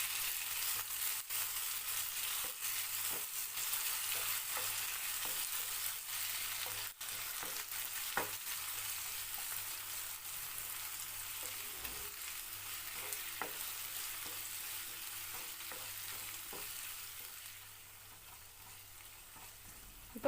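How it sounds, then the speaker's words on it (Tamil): Chopped tomatoes softening in a pan for mushroom biryani masala, stirred steadily: a continuous close sizzle and crackle of frying with irregular soft scrapes and knocks of a spoon, no voices, easing slightly quieter near the end. "ரெண்டு நறுக்குன தக்காளி சேர்த்து தக்காளி சாஃப்டாகிற வரைக்கும் நல்லா வதக்கிடுங்க."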